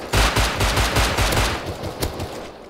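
Rapid automatic gunfire in the video game Rust, a close, loud burst of shots lasting about two seconds, followed by one more sharp shot.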